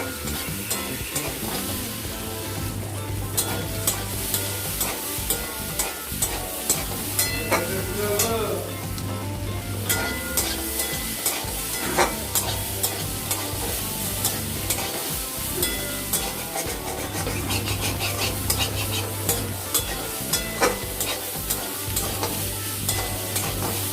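Fish with potato and pointed gourd fry in a pan for a chorchori, a continuous close sizzle broken by repeated scraping stirs and spatula knocks, with a low hum underneath and no voices.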